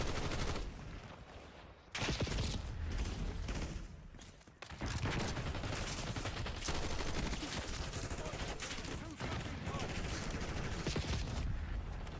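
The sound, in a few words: gunfire in Call of Duty Black Ops 6 video game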